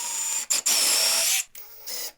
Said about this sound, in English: I can drill right on the markings I made down into the runner